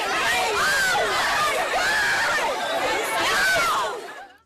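A Black Friday shopping crowd overnight at a Texas Walmart, a dense, loud roar of overlapping chatter, shouts and excited yells that stays continuous throughout before trailing off at the very end.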